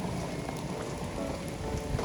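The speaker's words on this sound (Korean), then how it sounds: "아직 비는 많이 옵니다." Heavy typhoon rain pours steadily in Shanghai, a dense, constant hiss and patter on surfaces with no pauses, close and loud throughout.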